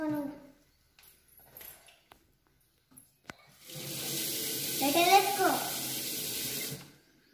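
Hands being washed under a running tap, a steady splashing water flow starting midway and lasting several seconds at moderate loudness, preceded by faint scattered speech and small knocks.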